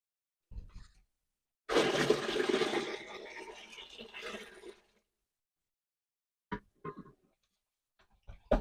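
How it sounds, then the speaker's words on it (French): Heated water pours for homemade yogurt in a steady rushing splash lasting about three seconds, followed by a few soft knocks and clinks of the container, fairly quiet and close. "on va y verser la deuxième partie de notre eau chauffée"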